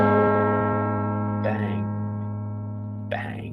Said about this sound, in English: The bell chimes again